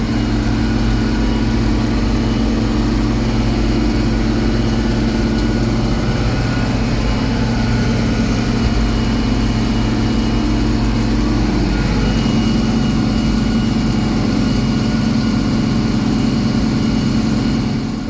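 A tractor engine runs steadily out in a field during planting, a loud, constant low-pitched drone that holds for the whole stretch with only a slight shift partway through and no talking.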